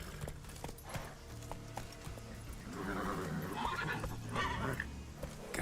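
Roach, a horse in a video game, gives a drawn-out whinny in the middle, with clip-clop hoofbeats and low game ambience underneath. The neigh sounds moderately close and rises above the steady background.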